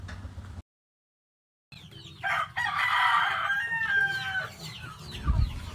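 Chickens and ducks cluck and squawk close by at feeding time, a busy flock chattering over a brief gap of silence and some background shuffling.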